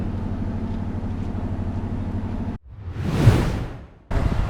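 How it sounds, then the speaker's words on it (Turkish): Night ambience at a bus terminal: a steady low rumble of idling engines and hum, broken by a passing vehicle's swelling whoosh, then the droning resumes. "Burası da otobüs terminali."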